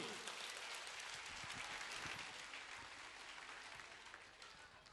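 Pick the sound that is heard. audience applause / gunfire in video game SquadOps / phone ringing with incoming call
audience applause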